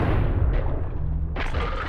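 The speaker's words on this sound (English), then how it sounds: "Now I get to shoot him." A shotgun blast in the video game Buckshot Roulette, a single heavy low boom that rolls on, followed by a brighter burst of noise near the end.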